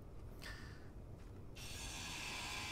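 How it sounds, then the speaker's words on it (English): A grinder in the game Space Engineers starts up partway through with a steady high-pitched grinding whine that continues to the end. Earlier there are a few brief mechanical clicks over faint background noise. "We're grinding the hell out of it."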